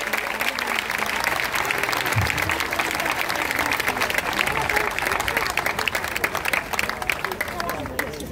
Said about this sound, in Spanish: Un aplauso, por favor, para todas las madres,